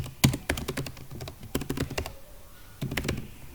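Close, crisp typing on a computer keyboard comes in quick bursts of keystrokes, pauses briefly, then resumes with another short run of clicks, with no voice present.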